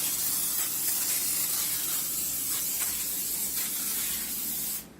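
Cooking spray hissing steadily from a can onto a pan for about five seconds, close and continuous, stopping abruptly at the end.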